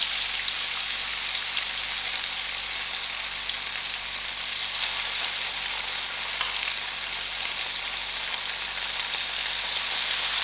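Masala-coated fish pieces frying in hot oil, a steady, dense sizzle with fine crackling that holds evenly close and loud throughout, with no voices over it.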